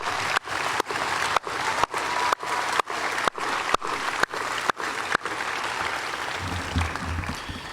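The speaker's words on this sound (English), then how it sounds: "join me in a thunderous applause for the unsung heroes" Applause for drill sergeants at a Fort Benning infantry graduation ceremony: a large crowd claps loudly and steadily, with a burst of sharp, evenly spaced accents early on, settling into a sustained wash of clapping.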